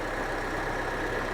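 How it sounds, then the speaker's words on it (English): A car engine idles in a steady, low, even rumble, brief and uninterrupted with no voices. "Let's just switch the engine off for a sec."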